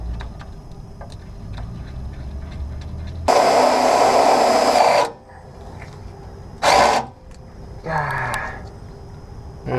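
A power drill bores a pilot hole during an AirDog II 165-4G fuel system install on a 2016 Duramax truck, whining steadily for about two seconds, then two shorter bursts follow amid quiet shop background.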